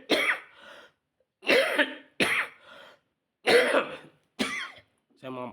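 A person who is unwell coughs and clears the throat several times in short, separate bursts with pauses between them. The sound is close and dry, with a brief bit of speech at the end.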